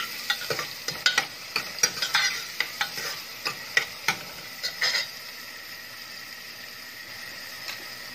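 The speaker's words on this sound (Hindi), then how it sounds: "अब मैं प्याज डाल रही हूँ। प्याज को हल्का पिंच होने तक भूनेंगे।" Onions frying in hot oil in a pan as they are stirred, a steady soft sizzle under a run of scraping and clinking spoon strokes that thin out toward the end.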